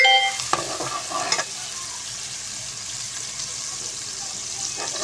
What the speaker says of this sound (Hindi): प्याज जब तक हल्का सा फ्राई हो रहा है